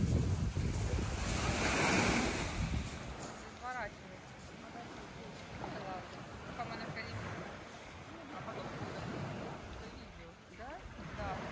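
Waves wash steadily onto Milopotamos beach with gusting wind against the microphone, and faint voices can be heard in the background.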